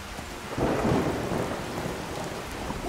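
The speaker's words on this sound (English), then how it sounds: "We are wet. Yeah, it's pouring rain." Pouring rain hisses steadily in Skyrim while a deep roll of thunder swells in after half a second and slowly fades, with no voices.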